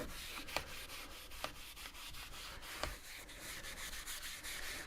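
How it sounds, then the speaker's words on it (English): The case of a Tandy 1000SX computer is scrubbed by hand, producing quiet, steady rubbing strokes close up with a few sharper scuffs, and no talking. "Just a little scrubby scrub there."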